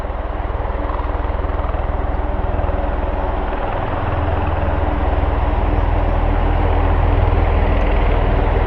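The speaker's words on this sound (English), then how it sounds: "There's our Osprey taxiing out towards us." A V-22 Osprey tiltrotor taxis at RAF Mildenhall. Its heavy rotor and engine roar is loud and continuous, with a deep low throb that swells steadily as the aircraft moves closer.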